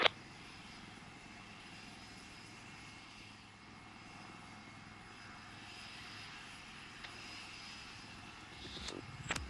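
A Rafale fighter jet flying a slow speed pass at the Aero India air show in Bengaluru, a steady distant engine roar that swells slightly toward the end, with brief sharp bangs near the close and no speech.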